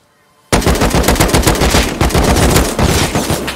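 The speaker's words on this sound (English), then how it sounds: "I was not expecting them to have an AK." Sustained automatic AK assault rifle fire in the Rust video game erupts suddenly after a brief quiet moment, then continues as a loud, rapid, close stream of shots without a break.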